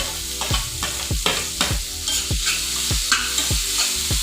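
Chopped large onions frying in oil for a prawn thokku, a steady sizzle broken by regular scraping stirs of a spatula roughly every half second, close and alone with no voices.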